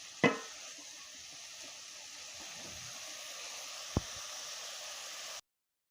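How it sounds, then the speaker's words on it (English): Cabbage cooks in a pan for spicy cabbage fried rice, giving a steady, soft hiss of sizzling that holds evenly throughout. A light clack sounds near the start and a single tap comes later. "Now we will leave our cabbage to cook."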